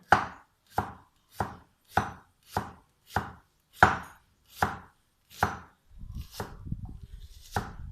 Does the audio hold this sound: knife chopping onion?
yes